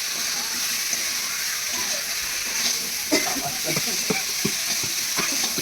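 Chili powder is stirred into hot oil in a frying pan, with a steady close sizzle and the spatula scraping and clicking against the pan in uneven strokes.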